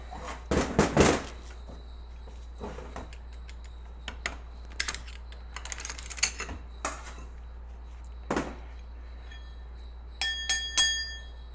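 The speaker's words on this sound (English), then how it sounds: "The cheap ones go thud thud. This goes ring ring like a bell." Hardened clutch hub from a 4L80E transmission in a 1963 Pontiac Star Chief, struck several times and ringing like a bell, with sharp metallic strikes and a bright sustained ring near the end, close and fairly loud.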